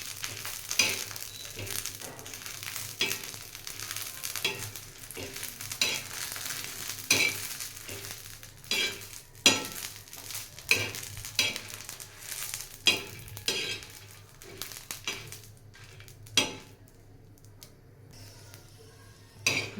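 Green chillies roast in a dry pan for a karale chutney, with repeated scraping and stirring clicks from a spatula over a soft, steady sizzle, the strokes coming in irregular bursts for the whole stretch.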